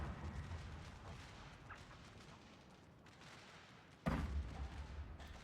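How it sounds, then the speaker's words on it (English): Artillery fires shrapnel shots in a Shogun 2: Fall of the Samurai battle between Belgium and Saxony: faint, distant booms over a low battlefield rumble, then one sharper, louder blast near the end. "He is trying to stop me by firing shrapnel shots into my units"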